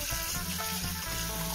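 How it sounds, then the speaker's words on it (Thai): A tap runs in a brief, steady rush while striped catfish are rinsed in salt water. "เปิดน้ำสินะคะ ล้างจากสองสามน้ำนะคะพี่น้อง"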